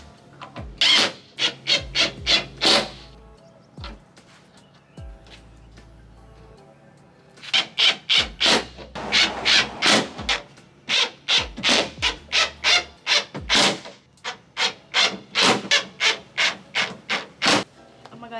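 Screws are tightened on a tailgate panel of a Toyota Tacoma. Close, loud rasping strokes come in quick rhythmic clusters with short pauses between them, and no one speaks.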